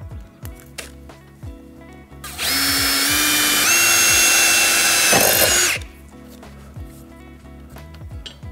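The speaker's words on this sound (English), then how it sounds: "we should be able to drill a couple more holes right here for the airline." A power drill bores holes for an air suspension line on a Dodge Challenger, whining loud and steady for about three seconds close by, rising slightly in pitch, with quieter shop sounds before and after.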